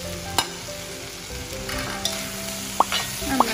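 A spoon stirs salted cooked basmati rice and pasta into masala in a hot pan, giving a steady soft sizzle with a few sharp scraping clinks of the utensil against the pan.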